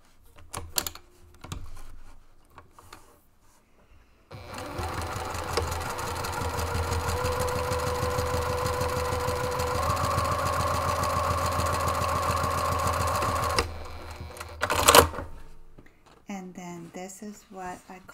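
A sewing machine stitches the base of a fabric desktop caddy to its side, seam to seam, in one long steady run. The motor whirs loudly and evenly for about nine seconds, with brief quieter handling and a few words around it.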